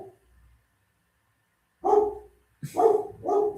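A dog barks indoors, loud and close, giving one bark then a quick pair after a silent pause.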